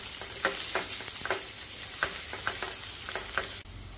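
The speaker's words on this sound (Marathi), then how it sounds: "आता ह्यामध्ये मी कांदा घालतेय" Onion frying in oil for Aagri-style bheja fry sizzles steadily up close while a spoon scrapes and stirs in a rhythmic series of strokes, the hiss cutting off abruptly just before the end.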